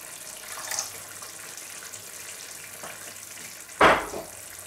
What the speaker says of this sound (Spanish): Ahora le vamos a añadir el vino.